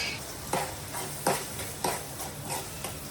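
Green peas are stirred into cooked onion, tomato and capsicum in a pan. A low sizzle runs underneath as a spoon scrapes in several separate strokes, close by, with no voices.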